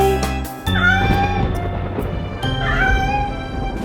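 Kittens meowing in a series of loud, close, high-pitched mewing cries that overlap across the clip, with no talking.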